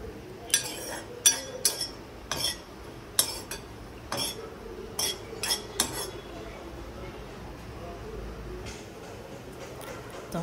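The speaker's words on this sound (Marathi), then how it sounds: "आता आपण सुक्या खोबऱ्याचा कीस भाजून घेतोय" Grated dry coconut being dry-roasted in a pan and stirred with a metal spoon, giving irregular bright clinks and scrapes against the pan that cluster early and thin out later, over a quiet background.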